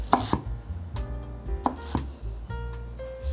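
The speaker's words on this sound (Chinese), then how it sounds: "把金针菇切成小段状，大约1公分的长度。" Knife chopping enoki mushrooms into short pieces on a cutting board, a series of sharp close taps in an uneven rhythm, with no talking.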